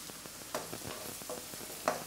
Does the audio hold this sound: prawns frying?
yes